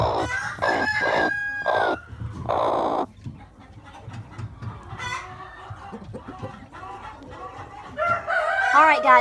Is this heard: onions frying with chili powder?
no